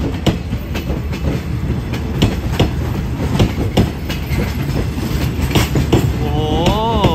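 An express train hauling a new-model Daewoo air-conditioned sleeper car rolls steadily past nearby. Loud rhythmic clickety-clack of wheels on rail joints continues throughout, and a wheel squeal rises near the end.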